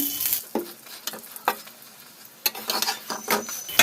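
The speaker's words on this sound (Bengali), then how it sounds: "এইভাবে উল্টে পাল্টে তেল দিয়ে ভেজে নিতে হবে" Sattu-stuffed paratha made with refined flour sizzles in hot oil with a soft, continuous crackle, punctuated by several scraping clicks of a spatula turning and pressing it.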